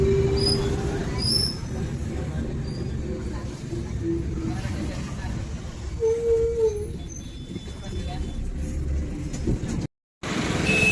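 Tutari Express train pulling into Ratnagiri station on the Konkan line: a heavy, steady rolling rumble close by, with short metallic wheel squeals partway through and a brief cut near the end.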